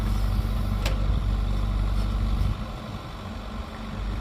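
Steady diesel drone of a small Caterpillar 305.5 E2 mini excavator working dirt for a septic system, a loud continuous low rumble with a brief sharp clank and a slight drop in engine load midway.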